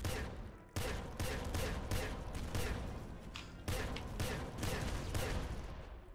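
Hyper blood launcher weapon in the video game Nuclear Throne, firing a rapid stream of punchy explosive shots and bursts that overlap continuously into a dense, loud barrage with no pauses.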